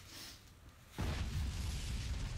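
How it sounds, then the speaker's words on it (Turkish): After a quiet hiss, a sudden deep boom from a house explosion breaks out and becomes a sustained, heavy rumbling roar. "Bu ev patladı. Bomba koymuşlar galiba."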